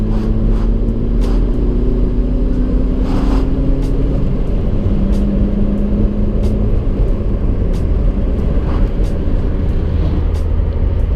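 A petrol Volvo accelerating on the road, with a steady engine drone and rising pitch heard up close and continuous throughout, without talk.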